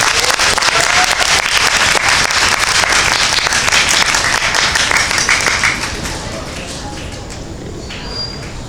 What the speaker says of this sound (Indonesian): Tepuk tangan dengan Mbak Autika itu.